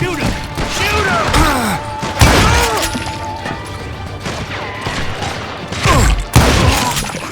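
Loud bursts of Western-style gunfire from the video game Call of Juarez Gunslinger, a series of sharp repeated shots and ricochets in clustered volleys, with a few heavy impacts between them.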